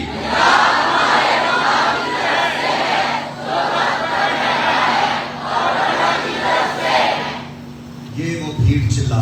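A church congregation shouts hallelujah in a loud, sustained crowd roar that surges in several waves, then gives way to a speaking voice at the end.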